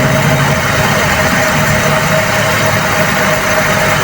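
A Toyota 2E carbureted engine idles steadily, a constant mid-low hum close by with a faint whine over it, while its RPM is raised through the idle-up setup.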